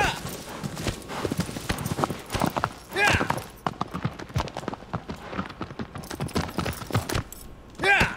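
Horse hooves in the video game Shadow of the Colossus clip-clop in quick, steady rhythm close by, with the horse snorting or neighing now and then, plus a voice briefly speaking over it.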